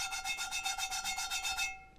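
A pre-seasoned cast iron pan from a Camp Chef six-piece set gets scraped back and forth, a quiet, close, raspy rubbing in quick regular strokes that stops abruptly after about two seconds.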